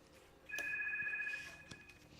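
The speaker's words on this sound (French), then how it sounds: "Ah, téléphone qui sonne." A telephone rings on a French television call-in consultation show: a bright electronic trill holds for about a second, then a shorter ring follows, clear over a quiet room background.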